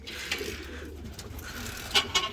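Hünkâr pigeons cooing softly inside a coop at night, a few low murmuring calls with a brief louder burst near the end, heard close against a quiet indoor background.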